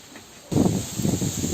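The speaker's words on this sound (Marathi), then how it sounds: "ते वारा बघा किती सुटलेला आहे" After a brief quiet moment, wind suddenly gusts against the microphone outdoors beside a wood-fired clay stove, a loud rumbling whoosh with a soft hiss that keeps buffeting.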